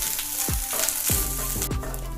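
Grated coconut fries in oil with a close, crackling sizzle, broken by several soft thuds and scrapes as it is stirred, with no voices.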